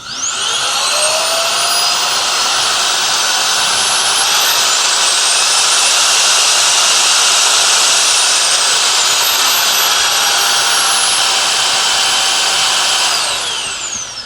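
A Roidmi F8 cordless stick vacuum cleaner with a newly replaced battery runs at high speed, a loud, steady, close whine with no talk that holds evenly before winding down at the end.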